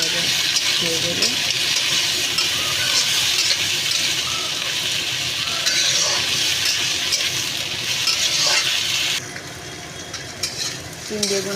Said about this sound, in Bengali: সিম, বেগুন, আলু ভাজা হয়ে গেছে